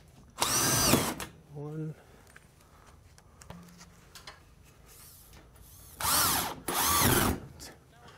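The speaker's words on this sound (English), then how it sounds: "we just put it up with drywall screws" A power drill drives drywall screws to fix panels at 16-inch centers, with three loud whirring bursts near the start and end, separated by quieter handling noises and a brief spoken word.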